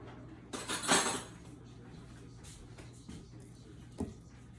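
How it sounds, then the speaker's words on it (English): A spoon grabbed from a drawer of cutlery, giving a short burst of metallic clinks and rattles near the start, then a couple of faint isolated clicks over a steady low hum. "I'm going to grab another spoon."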